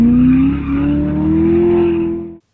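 Loud, close engine runs hard under a big throttle jab with stability management off, a high rising tone sweeping upward over about two seconds before cutting off abruptly, on a car with 638 horsepower.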